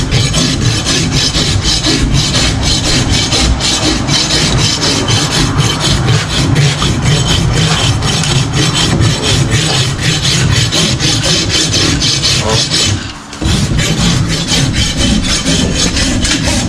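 A farrier trims the front hoof of a draft horse held in a stock at an Amish farrier's shop. A loud, close, steady rasping scrape runs almost without a break, with one brief pause near the end.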